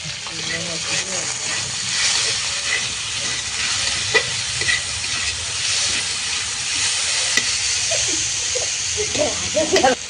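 Potato pieces fry with turmeric and salt in hot oil, giving a steady close sizzle and crackle while a spoon scrapes and stirs through them in irregular clinks.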